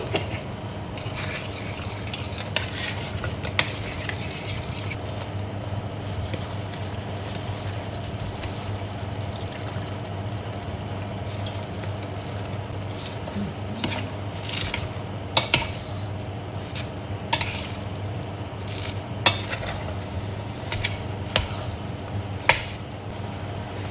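Borscht ingredients fry and get stirred in a pan with red ground pepper, giving a continuous soft sizzle and occasional sharp utensil clinks and scrapes.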